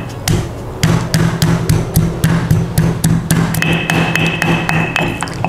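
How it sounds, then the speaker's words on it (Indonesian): Turmeric pounded by hand in a mortar for a beef dish, a loud, steady run of sharp knocks roughly every few tenths of a second with a ringing stone tone, continuing alone without talk. "Untuk kunyitnya ini aku tumbuk aja sahabatku, soalnya aku sayang choppernya."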